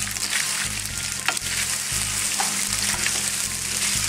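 Leftover pre-cooked pasta frying in a pan, a steady loud sizzle with occasional stirring scrapes and clicks, close and uninterrupted, no talking.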